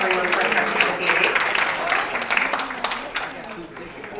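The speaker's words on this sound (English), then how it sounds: "Let's give a round of applause for our Vera Bradley winners." An audience at a jazz quintet matinee breaks into steady applause, dense clapping held for a few seconds and slowly tapering, with a voice speaking over it.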